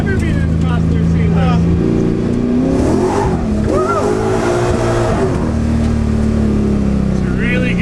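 Car engine revving hard while accelerating through the gears with a heavy clutch, loud and close from inside the cabin, its pitch climbing and dropping, with people talking over it.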